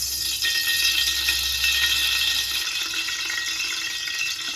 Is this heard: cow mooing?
no